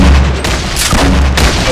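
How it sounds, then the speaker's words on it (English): Loud, dense bursts of SMG fire and booming shots in a competitive shooter video game match, crowding the whole clip with barely any gap. "I got my SMG to shoot and..."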